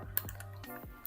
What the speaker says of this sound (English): You press G on your keyboard